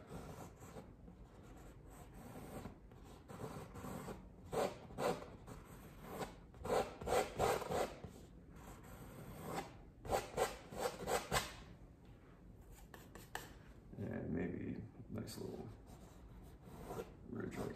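Excess paint being scraped off a mountain lake landscape painting, producing quiet, uneven dry scraping strokes in short bursts with pauses, close by, with someone speaking at times.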